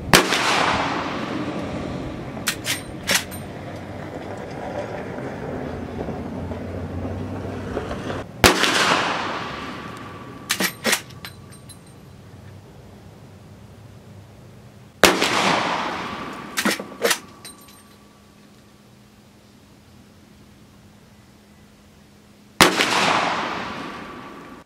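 A Marlin 1895 Trapper lever-action rifle in 45-70 Government fires with iron peep sights, four loud sharp shots spaced several seconds apart, each with a long decaying echo and some faint handling clicks between.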